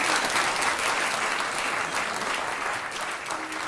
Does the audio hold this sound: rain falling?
no